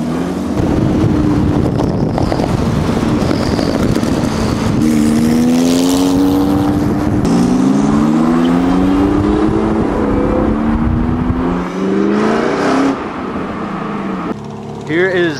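Several street drifting cars, among them an 800hp G80 M3, a Supra and a 911 Turbo, rev hard and pull away with rising engine pitch, loud and sustained throughout with voices talking over them.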